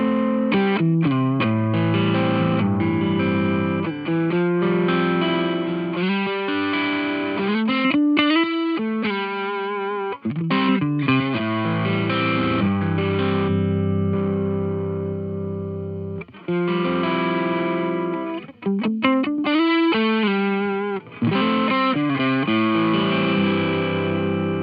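Distorted electric guitar plays chords and riffs through a crunchy overdrive, loud and continuous with short pauses between phrases.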